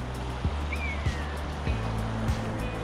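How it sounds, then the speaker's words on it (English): River flowing below a disused single-track railway trackbed near Seymour Junction on the old Bolsover branch: a faint, steady wash of running water with soft periodic thumps and a distant thin whistle. "the river flowing down there"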